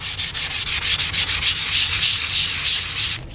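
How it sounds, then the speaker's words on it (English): Sanding sticks, really nail files, rubbed back and forth over motorcycle forks during a Ninja restoration, a loud close scratchy rasp in quick regular strokes that blurs into continuous scraping near the end, with no talking. "This is a perfect use for these sanding sticks."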